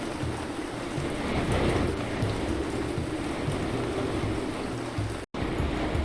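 Rain falls steadily in the survival game Ancient Cities, a dense, even hiss with a low rumbling undertone, heard alone with a momentary dropout near the end.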